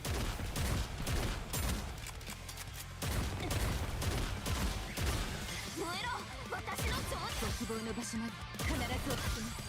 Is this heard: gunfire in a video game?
yes